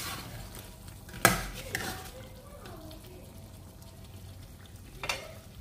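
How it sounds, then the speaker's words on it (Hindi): Country chicken curry masala is stirred in a cooking pot, with a couple of sharp metallic scrapes and clanks against a low, steady sizzle. Someone talks in the background. "इसे मैं एक बार मिला लेती हूँ ताकि मसाला नीचे से जले नहीं"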